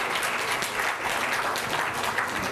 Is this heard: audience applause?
yes